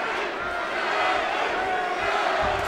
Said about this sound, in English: Now they're going Bradley, Bradley.